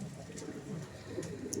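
Large pigeons at a pigeon sale give soft, low cooing calls, a faint murmuring coo running through the clip with a couple of brief higher chirps.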